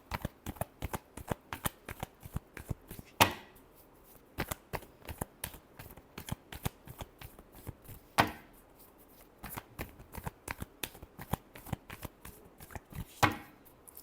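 Tarot cards are shuffled by hand in quick, crisp riffles, with sharper slaps every few seconds, close and fairly quiet, with no talking.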